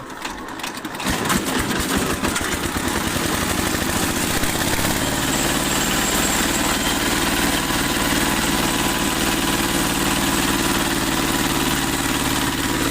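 Engine of a rice snack making machine starts and settles into a loud, steady running drone with a rapid mechanical rattle, close by and continuous.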